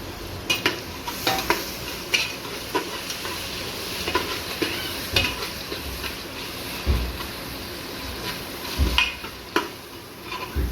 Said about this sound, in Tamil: இப்போது நம்ம அரிஞ்சு வச்சுருக்க தக்காளி போட்டுக்கலாம்.